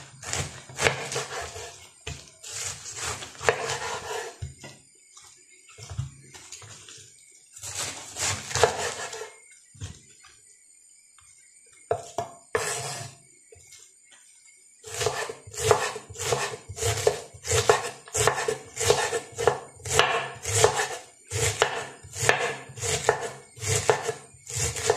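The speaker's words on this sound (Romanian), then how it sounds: "Mai întâi vom toca varza." A knife chops cabbage as thinly as possible on a board, producing bursts of rapid, rhythmic cuts separated by brief pauses, close and clear with no talking.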